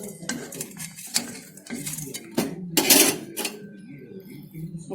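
A knife cuts through fried cauliflower pakoda on a metal plate, producing a series of sharp clinks and scrapes in irregular bursts, close and fairly loud.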